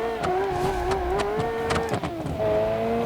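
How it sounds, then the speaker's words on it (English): A car in the racing sim Automation spins its tires, a steady tonal whine and squeal riding over the engine, wavering slightly in pitch and holding loud and close throughout. "this thing loves spinning its tires"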